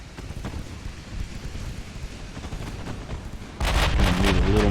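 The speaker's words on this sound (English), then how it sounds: "Just not enough with these 15-inch guns." 15-inch naval guns firing in Ultimate Admiral Dreadnoughts, a warship battle game: a low continuous rumble with muffled distant thuds, then a louder, sharper burst of firing near the end.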